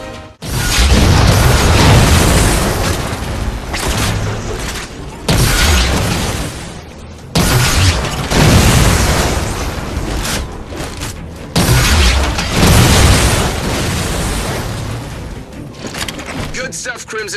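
In Halo 4, AA guns are shot until they break, with loud booming explosions and heavy blasts at intervals. Dense combat noise runs between them, and voices speak over the action.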